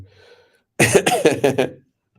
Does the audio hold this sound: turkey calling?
no